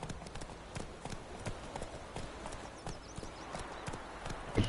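Roach, Geralt's horse in The Witcher 3, trotting with a steady, rhythmic clip-clop of hooves at moderate distance, fairly quiet and alone.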